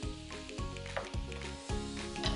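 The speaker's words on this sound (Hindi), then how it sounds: "तो बोनलेस मीट की कीजिए भुनाई" Boneless beef or veal frying in a pan, a steady close sizzle with a soft tonal hum in the background and no voices.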